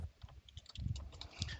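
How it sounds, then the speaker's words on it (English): Quiet typing on a computer keyboard, a run of soft irregular key clicks and taps over about two seconds, with no voices. "All right, so I'm just typing."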